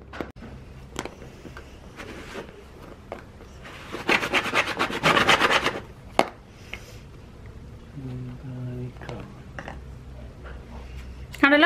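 Bread is pressed and cut with a bottle cap, making close scraping, rubbing strokes and a loud rapid rasping burst midway, with a voice speaking throughout.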